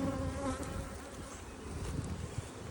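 Honeybees buzz around an opened hive, a soft, steady droning hum that rises and falls slightly with a few faint bumps; quiet and close with no talking.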